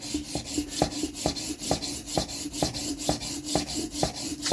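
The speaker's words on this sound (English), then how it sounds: "we're going to go from the coarsest possible grind imaginable slowly onto coticule" A wrecked Dovo inox straight razor is ground on a coarse sharpening stone in a steady rhythm of close, gritty rasping strokes, about two per second, each stroke ending in a sharp click, with no talk.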